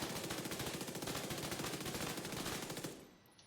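Rapid sustained burst of SMG fire in a video game, a steady stream of closely spaced shots for nearly three seconds that cuts off and leaves a quiet tail, no talking.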